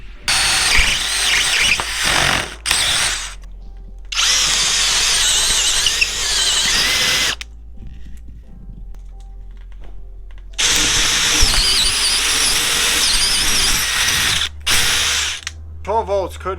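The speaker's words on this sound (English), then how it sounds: "It's a 12 volt drill." A DeWalt 12 volt drill bores with a Spyder Stinger bit in loud, sustained bursts of whining motor and grinding bite, broken by pauses and restarts, with a ratcheting clatter near the end.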